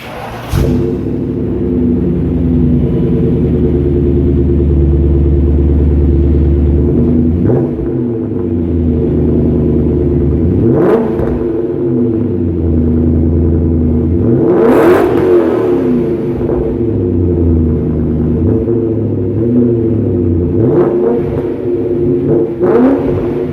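A 2003 BMW E39 M5 exhaust heard up close at idle with a steady deep burble, broken by repeated sharp throttle blips that rise and fall, plus a couple of longer revs climbing higher before dropping back.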